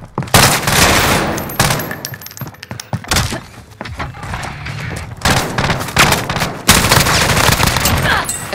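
Heavy automatic gunfire in Call of Duty: Modern Warfare, with loud sustained bursts and single heavy shots running close and dense across the whole stretch, no talk over it.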